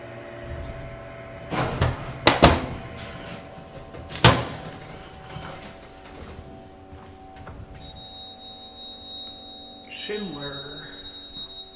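A slow-moving Schindler MT hydraulic elevator door at the Quality Inn in Seabrook, Texas, gives several sharp knocks and thuds early on, followed by a steady high tone and a brief falling whine near the end, with faint background noise.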